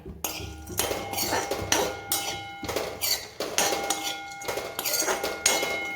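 Dry fruits and pistachios roasting in ghee in a pan over low heat, heard as repeated metallic clinks and scrapes of a utensil against the pan in irregular bursts, close up.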